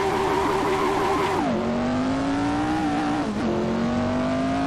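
Lotus 49 race car in Assetto Corsa, engine screaming at high revs with two distinct downshift drops in pitch before climbing again, loud and continuous.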